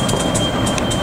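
A loud, steady rumble of a locomotive-hauled local train departing Gedebage station in Bandung, Indonesia, rolling past nearby, with faint high chirps above the noise.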